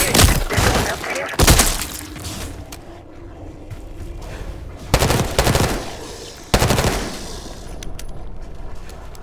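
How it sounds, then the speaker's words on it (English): Gunfire rattles in Call of Duty: Black Ops 6, with loud bursts of automatic fire and sharp impacts spread across the clip amid mechanical clanks and quieter pauses. "You hearing gunfire?"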